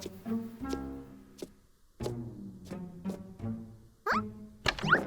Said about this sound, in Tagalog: may kumakatok ng paulit-ulit